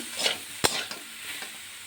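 Mashed banana stem with turmeric is stirred in a hot pan for a Bengali chhechki, a soft sizzle under a few distinct scraping strokes of a spoon, one sharp knock standing out.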